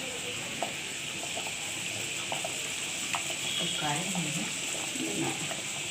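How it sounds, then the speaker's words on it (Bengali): Khichuri seasoned with turmeric boils in a pot, a steady close bubbling and sizzling hiss with light stirring clinks, while a person talks over it. "এদিকে খিচুড়িটা দারুণ ফুটে যাচ্ছে"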